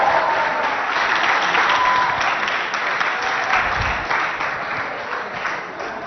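Audience clapping at a high school poetry contest held by lycées in Abéché, a dense, loud round of applause that swells and then slowly tapers off over several seconds.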